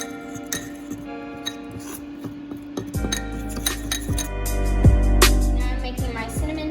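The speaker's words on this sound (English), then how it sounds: "And give that a good stir." A spoon stirring a glaze of vanilla, milk and powdered sugar in a bowl gives close, repeated clinks and taps against the bowl, with no talk.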